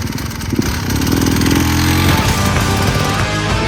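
A KTM 300 enduro motorcycle on loose hill-climb terrain, its two-stroke engine loud and close, buzzing steadily and rising as it revs, with no talking.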